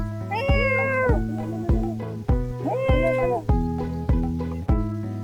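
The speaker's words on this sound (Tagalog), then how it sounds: "Ay, pusa." A cat near a beach resort meows loudly and close by, two long drawn-out wailing meows with pauses between, rising and falling in pitch, heard alone without talk.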